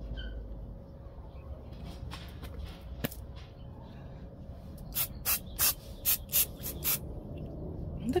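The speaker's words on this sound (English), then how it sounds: "they got me these really cute glitter sprays" Glitter spray hisses from an aerosol can in a series of short, sharp, close bursts, about seven in quick succession after a quieter stretch of light handling sounds.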